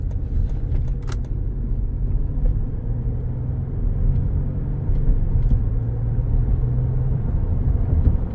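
Steady low road rumble inside a Lincoln Navigator Reserve driving over pavement and grates, with a few light knocks and clicks near the start and no talking.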